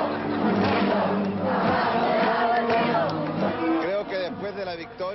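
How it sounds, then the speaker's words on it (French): Demonstration crowd chanting slogans in unison between songs, a loud, dense mass of voices with rhythmic shouted phrases rising and falling, close and continuous, with individual voices standing out near the end. "c'est de la foule que partaient les slogans"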